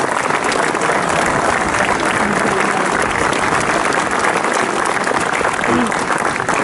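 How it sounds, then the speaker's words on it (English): A crowd claps loudly and continuously throughout, dense sustained applause filling the room with no pauses. "Welcome him with a big round of applause."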